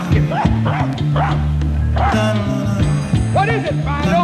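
Dog barks and yips cut into a 2018 reissued hip hop track, several sharp bursts riding over a steady beat and bassline, loud and up front in the mix.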